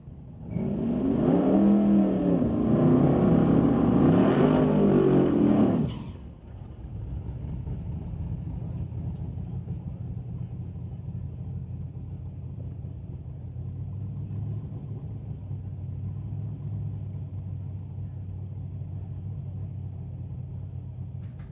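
At a street-legal drag night at Mission Raceway Park, a 1968 Torino and a 1973 Nova roar past loudly with a rising engine pitch for about six seconds, then recede into a distant, steady rumble.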